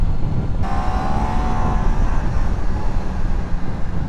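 A Triumph Trident 660 or Tiger Sport 660 triple engine revs hard under way, a steady loud drone with rising pitch layered over continuous rushing wind noise.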